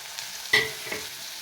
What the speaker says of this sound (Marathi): या मसाल्यामध्ये दोन मिनिट भाजून घ्यायचे पावट्याचे दाणे